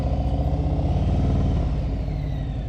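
A motorcycle idles and pulls away slowly in first gear, a steady, loud, low engine rumble with a close, even throb and a slight lift as it moves off.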